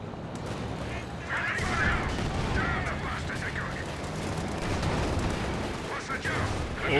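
Tank guns fire and shells strike armor in a tank battle video game, dull booms and impacts rumbling under near-constant excited commentary.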